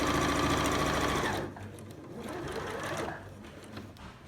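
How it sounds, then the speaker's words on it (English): A sewing machine stitches two pieces of fabric together for a face mask, a loud steady mechanical whir for about a second and a half, then stopping and leaving quiet room handling noise. "I've done my back stitch, and I'm going to sew them together"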